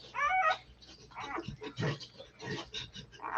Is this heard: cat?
yes